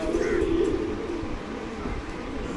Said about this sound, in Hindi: तो ये कबूतर देखिए, ये देखिए भाई